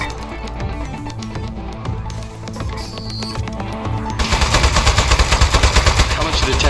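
Rapid gunfire from the desk-mounted shooter in the video game Aperture Desk Job, a dense run of shots that grows louder and more rhythmic in the second half, layered over a game soundtrack.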